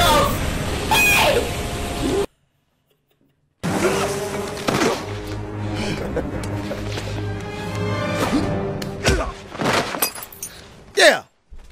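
Glass shattering in an action film scene involving a submarine's industrial glass, a loud crash with scattered debris amid music and shouting voices.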